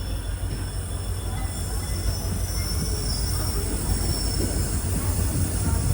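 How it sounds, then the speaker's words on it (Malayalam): An Amrit Bharat Express sleeper train pulls into Mangaluru Junction in Karnataka, a loud steady rumble of rolling wagons with high wheel squeal running through it, close and continuous, without talk. "ട്രെയിൻ ഇതാ കർണാടകയിലെ മംഗളൂരു ജംഗ്ഷൻ റെയിൽവേ സ്റ്റേഷനിലേക്ക് എത്തുകയാണ്."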